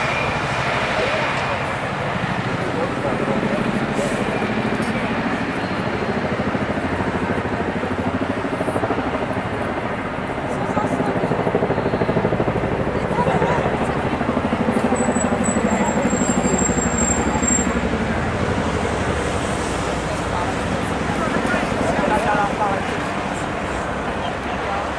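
Big helicopter passing overhead in London, a low continuous rotor drone that swells and fades slightly over about twenty-five seconds, broad and rumbling with distant city background.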